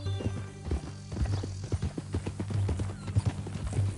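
Steady clip-clop of horse hooves at a walking pace in Red Dead Redemption 2, close by, with a low rumbling hum running underneath throughout.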